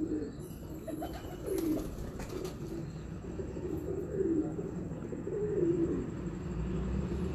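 Lal Pari pigeons coo in a low, repeated burble from a loft, several soft calls overlapping, with faint background chatter and occasional rustle.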